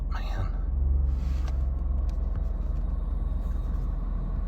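A 2007 Hyundai Azera with its 3.8 engine runs just after starting, giving a steady low rumble close by that continues evenly under a brief burst of noise near the start.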